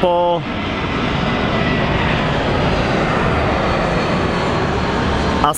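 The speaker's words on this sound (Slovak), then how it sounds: "Konečne sme pristali v LA." An airliner's engines roar steadily and loudly just after landing in Los Angeles, a continuous close drone with no break from start to finish.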